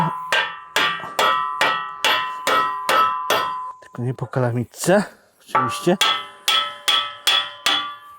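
Repeated metal hammer blows while assembling new farm equipment made of thick centimetre steel, loud, ringing and regularly spaced, pausing briefly while someone speaks before the strikes resume.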